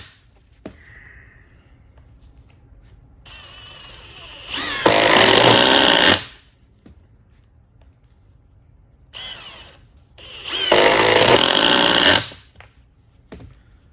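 Milwaukee and Metabo HPT impact drivers, set to speed 8, drive T25 screws in two loud, rattling bursts of about a second and a half each, separated by quiet, with faint voices between runs.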